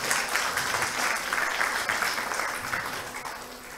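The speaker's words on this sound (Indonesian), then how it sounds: "Tepuk tangan untuk kita semua." A seminar audience at a national event on halal tourism applauds, with even, continuous clapping from many hands that holds steady throughout and tapers slightly at the end.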